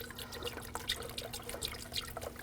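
Coolant, a 50-50 mix, poured through a funnel into the reservoir of a 2006-2009 Audi S4, giving a soft, steady trickle and splash close by, with no talk.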